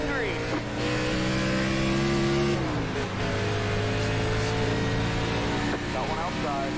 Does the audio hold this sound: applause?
no